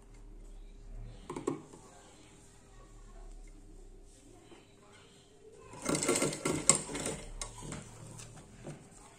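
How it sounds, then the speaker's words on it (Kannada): A sewing machine stitches the double-folded edge of a baby frock in several short bursts, the longest and loudest run of rapid needle clatter near the end, with quiet handling between. "ಇದನ್ನು ನಾನು ಮೂರು ಸೈಡ್ ಕೂಡ ಇದೇ ರೀತಿ ಡಬಲ್ ಫೋಲ್ಡ್ ಮಾಡಿ ಸ್ಟಿಚ್ ಮಾಡ್ಕೊಂಬಿಡ್ತೇನೆ"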